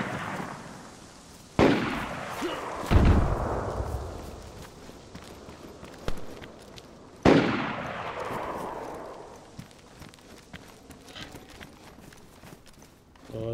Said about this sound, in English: Like the fireworks.